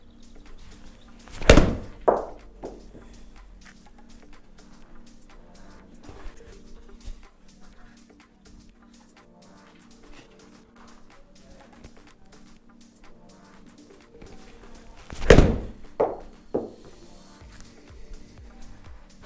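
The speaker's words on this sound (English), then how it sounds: "Right, so I've hit 3 wedges there." Golf wedge shots are struck at a long-drive practice setup, each a crisp club-on-ball thwack followed by a short rattle, with two clear hits about fourteen seconds apart under quiet room noise.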